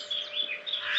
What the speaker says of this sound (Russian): такую вот маленькую минутку наслаждения пением птиц, утренним, чернобыльским